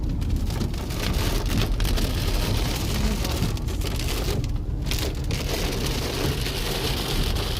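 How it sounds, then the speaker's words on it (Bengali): Heavy monsoon rain near the Chapramari Wildlife Sanctuary in the Dooars, a loud, steady downpour hissing without a break, with no voices. "আমাদের বর্ষাকালে এসেছে বৃষ্টি।"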